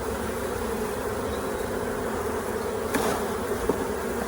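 Dense, continuous buzzing of a mass of honeybees being shaken into a hive, close and fairly loud, with a couple of brief knocks partway through.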